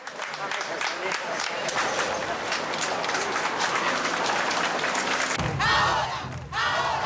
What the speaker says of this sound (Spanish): Y Huesito Videla aplaudido por los fachos.